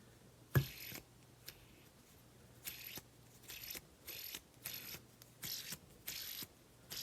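A spinning Air yo-yo by Magnus gives a sharp snap, then repeated whirring bursts of bearing hiss at a steady rhythm, close and fairly quiet.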